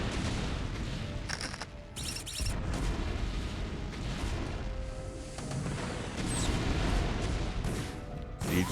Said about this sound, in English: Siege tank, sieging up.